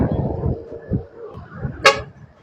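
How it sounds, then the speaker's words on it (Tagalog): A single short car horn toot cuts in near the end, following a stretch of low, muffled talk and traffic rumble. "Uy, lakas ng busina."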